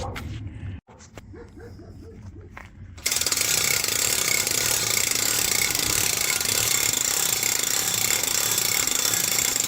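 A car trailer jack is cranked by hand, its ratchet clicking loudly and rapidly up close in a steady, continuous run after a few brief opening clicks, with no talking.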